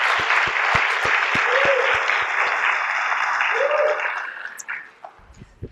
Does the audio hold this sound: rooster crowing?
no